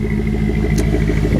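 A 2001 Jeep WJ engine idles through a stock 2.5-inch exhaust, heard close at the tailpipe as a steady, deep rumble, with a brief higher sound partway through and no talk.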